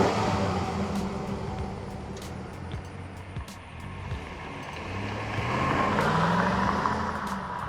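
A 2002 Chevrolet Silverado pickup drives past outdoors, its engine note swelling and fading as it goes by, with a steady low rumble and no talk over it.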